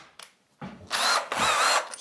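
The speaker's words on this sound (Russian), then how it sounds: "сделаю отверстие, чтобы с другой стороны было видно, где пилить." Power drill boring a hole through an old chipboard interior wall in a renovated house: a short first burst, then two sustained whining runs of drilling, close and loud, with no talk.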